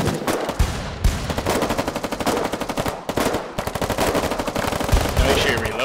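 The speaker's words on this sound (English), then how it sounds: "everybody grab a weapon, come up here and start firing" Weapons in the war game Foxhole fire at training dummies in rapid, loud automatic bursts, with a few short pauses between them.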